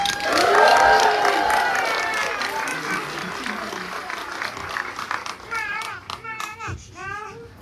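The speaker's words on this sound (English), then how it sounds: "can everyone give a super duper round of applause for Kate, please?" An audience at a PechaKucha speaker night in Bristol claps and cheers, loud at first and then thinning out, with whoops and excited voices calling over the fading applause.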